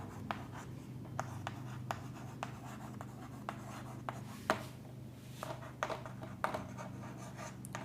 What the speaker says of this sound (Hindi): देखो लिखते हैं